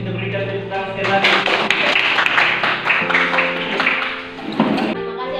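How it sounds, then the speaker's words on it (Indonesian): Applause from an audience at a teacher training session in Kupang, a steady crowd of clapping running loud for several seconds with music or tonal sound underneath and voices mixed in. "Kita berikan tepuk tangan sekali lagi."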